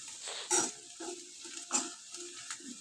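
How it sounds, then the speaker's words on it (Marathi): Ground garlic, coconut and coriander roasting in a pan for a bean curry, with soft sizzling and several scraping stirs of a spoon against the pan, close and moderately loud, no talking. "लसूण, खोबरं आणि कोथिंबीर असं भाजून घ्यायचं मस्त"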